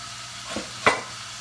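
Green beans fry in a pan with a soft, steady sizzle, broken by two quick scraping clatters as they are stirred.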